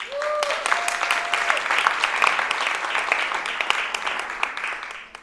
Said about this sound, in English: let's welcome our panelists with a big round of applause